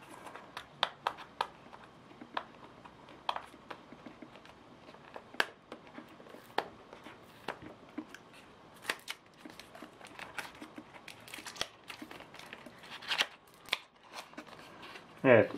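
A Xiaomi Mi 2 smart thermometer box is handled and opened up close, with quiet cardboard rustles, taps and sharp scrapes and flaps at irregular intervals, and a voice is heard briefly at the end.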